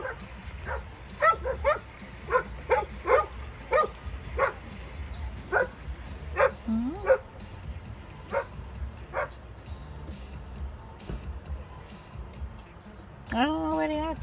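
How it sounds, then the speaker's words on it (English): A dog barking repeatedly somewhere outdoors, a steady series of sharp barks spaced about a second apart, heard at moderate distance, ending with a whining yelp while a person talks softly nearby. "I hear a dog."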